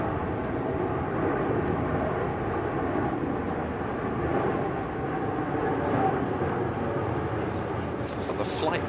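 An airplane passes overhead during a tennis match, Raducanu vs Broady in the Battle of the Brits, with a steady broad engine roar that fills the whole stretch at an even loudness, faint voices beneath it.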